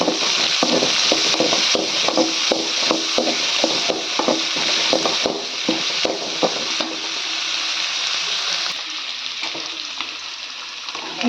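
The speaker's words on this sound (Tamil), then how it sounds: "இப்போது வெங்காயம் சேர்த்துடலாங்க." Sliced onion and vada frying together in hot oil, a dense continuous sizzle with repeated clicking stirs of a utensil, close and steady throughout, the stirring thinning out near the end.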